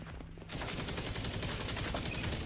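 Automated turrets in The Division 2 fire a rapid, sustained burst of gunfire that starts abruptly after a brief quiet moment and continues as close, loud, evenly spaced shots.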